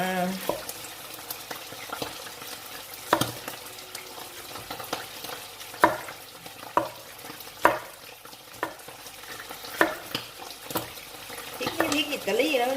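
Pla som, Thai fermented fish, frying and bubbling in hot oil in a pan, with a steady sizzle broken by scattered louder pops and clinks of a utensil stirring, close by, with faint voice moments.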